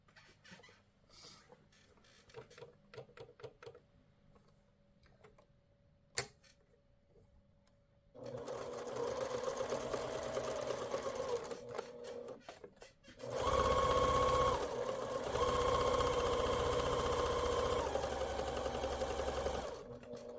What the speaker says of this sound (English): now we're going to stitch our scant 1/4 inch on both sides of one of the lines